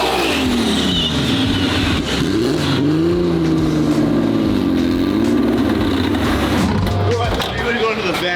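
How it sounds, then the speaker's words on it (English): An M3 race car engine in a private supercar collection, running loud and steady with rising and falling revs across the whole stretch, while people talk over it close by. "It's Mike's race car. It's his M3 car."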